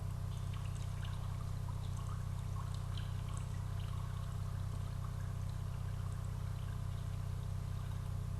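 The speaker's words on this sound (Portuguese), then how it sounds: "Agora, vamos ouvir este barulho aqui, ó, de uma água caindo." Steady stream of water falling and pouring, a continuous rushing wash with a strong low rumble, loud and unbroken throughout with no talk.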